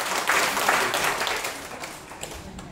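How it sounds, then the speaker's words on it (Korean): A congregation at a Korean church revival meeting breaks into applause, a burst of many hands clapping that swells quickly and then fades out, heard at a moderate distance. "박수."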